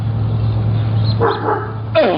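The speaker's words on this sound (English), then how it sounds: "Dog." A studio-recorded dog barking sound effect: two close, loud barks, the second sharper, heard alone.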